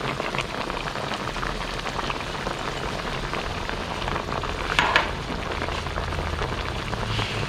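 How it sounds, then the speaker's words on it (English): Thai red curry with tomato and pork belly and ribs bubbling in a pot, a steady dense crackle and simmer like light rain, close and continuous, with a brief clink partway through. "We want a sour taste from it, so we let it boil together until the tomato is split"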